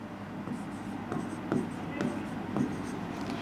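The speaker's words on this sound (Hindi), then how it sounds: "चलो इसको फॉस्फोरस लिख देते हैं।" Marker or chalk writing on a classroom board during a biology lesson, a few short scratchy strokes spaced about half a second apart, close and fairly quiet, no speech over them.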